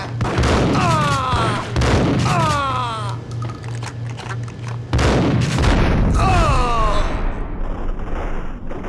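Gunfire in the video game Max Payne: repeated booming shots come in bursts with a steady low hum under them, loud and close, while voices with game sound effects mix in between.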